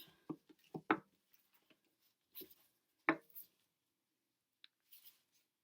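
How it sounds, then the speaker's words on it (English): Scissors snip through a rub-on transfer sheet for Dollar Tree Valentine's Day decor, a few quiet close crisp cuts and paper rustles in a cluster, then a pause and a couple more faint snips in a quiet room. "So I'm going to go ahead and cut this off."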